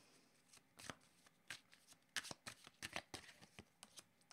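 Tarot cards are shuffled and handled close by, with crisp riffling bursts and snapping taps in an irregular rhythm and no voices over them.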